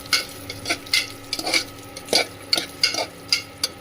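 Cashews frying in melted ghee, with a spoon stirring and scraping the pan in repeated sharp strokes over a soft, steady sizzle, close up and without voices.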